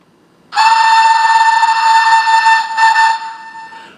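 A loud, steady whistle from a Hornby King Class model steam locomotive's sound system blows for about three seconds, a bright, sustained tone with a slight wobble near the end before fading.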